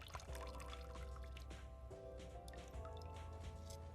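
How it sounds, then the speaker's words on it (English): Water pours from a gold panning snuffer bottle with its cap unscrewed, a close, steady trickle and drip lasting several seconds under a low hum. "It just unscrews, and you can just pour the water out."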